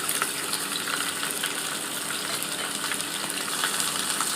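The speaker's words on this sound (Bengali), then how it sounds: "তেলটা গরম হয়ে আসছে, এখন আমি দিয়ে দেব মাছের মাথা" Half a fish head from a home pond fries in hot oil, giving a loud, continuous close-up sizzle and crackle with no talking.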